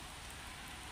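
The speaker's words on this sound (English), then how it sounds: "the rain has pretty much set in for the day" Steady rain, settled in for the day outdoors, makes a faint, even hiss with no voices.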